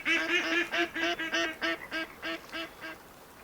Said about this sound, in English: Does it sound like we were right on top of those ducks?